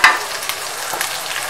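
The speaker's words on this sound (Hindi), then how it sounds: "10 मिनट से हम इसको भून रहे हैं हल्दी में।" Kashmiri qeema fries with turmeric in a karahi, a brief burst of hissing sizzle and a stirring scrape, close and fairly loud, with no talking.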